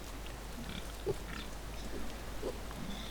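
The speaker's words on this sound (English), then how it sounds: "This is the old pig farm." Pigs grunt softly at a pig farm in the Farming Simulator game, a few low oinks scattered over a steady background hum, faint and distant.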